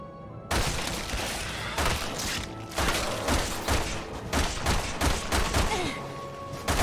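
Resident Evil 6 gunfire bursts out in rapid repeated volleys, loud and close, with sharp shots and booms stacking over one another in an unbroken barrage.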